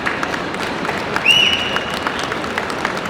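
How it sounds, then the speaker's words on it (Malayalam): An audience at a movie pre-release event for ARM with Tovino Thomas bursts into applause, a dense wash of clapping with a brief whistle-like squeal rising above it midway, steady and fairly loud throughout. "അതിനും ഒരു വലിയ കയ്യടി നിങ്ങൾ പ്ലീസ്."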